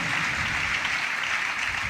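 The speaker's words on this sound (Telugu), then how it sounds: "చప్పట్లు కొడదాం అందరూ గట్టి గట్టి గట్టి గట్టి" A church congregation claps loudly and steadily through the whole moment, a dense, continuous wash of applause with no pauses.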